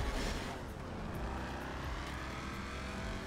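Engine drone of an aircraft flying in GTA Online, a steady continuous roar that holds loud and even throughout with no talk over it.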